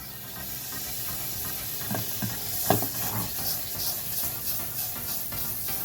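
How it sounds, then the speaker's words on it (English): Butter browning in a hot pan over a fire, a steady soft sizzle and hiss with a few louder crackles and pops, fairly quiet and close. "First, we shall take some butter and brown it."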